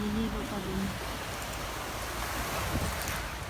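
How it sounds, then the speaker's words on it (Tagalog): Strong sea waves roll onto a pebbly shore at Pandan, Bohol, a dense continuous roar of surf and wind buffeting the microphone, with a brief tonal sound near the start. "kahit ganitong lakas ng alon"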